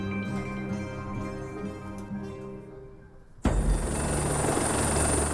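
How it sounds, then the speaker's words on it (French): A French-built Panther helicopter aboard an Israeli navy ship runs with a steady, droning rotor and engine hum, then jumps abruptly to a louder, broader roar of turbine whine and rotor wash close by. "À l'arrière du navire, un hélicoptère Panthère de fabrication française."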